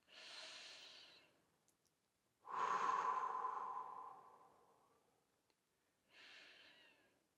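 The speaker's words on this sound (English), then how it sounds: "Take a few deep breaths." Deep, slow breaths drawn and released during a massage, three close and clear breaths with a long sighing exhale in the middle, alone in a quiet room.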